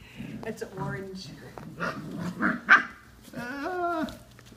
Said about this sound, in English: I'm being swarmed by puppies.